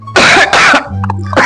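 A child coughs in two harsh bursts, a short pause with low murmuring between, then starts a third cough; close and loud.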